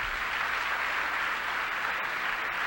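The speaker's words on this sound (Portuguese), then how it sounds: "Aplauda ao Senhor por isso" Church congregation applauding during a sermon, a steady wash of many hands clapping together, continuous and fairly loud for nearly three seconds, without speech.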